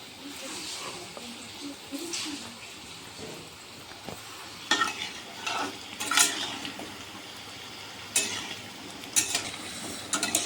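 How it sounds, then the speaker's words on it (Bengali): Chhana sweets frying in oil in a pan, a soft ongoing sizzle broken by sharper clinks and scrapes as pieces are turned over one by one, fairly close with no talking. "আস্তে আস্তে করে একটা একটা করে আবার এদিক ওদিক করে ভেজে নিতে হবে।"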